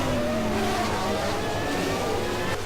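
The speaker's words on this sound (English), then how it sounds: "you can see those roaring V12s" Formula 1 cars with V12 engines race past at the 1991 Italian Grand Prix, a loud, continuous high-pitched engine roar with shifting tones as the cars pass.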